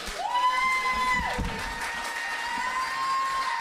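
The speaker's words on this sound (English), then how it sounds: "Keep the applause going." Comedy club audience applauding and whooping at the end of a stand-up set, steady clapping and cheers filling the room throughout, with a high whistle-like whoop rising over the crowd near the start.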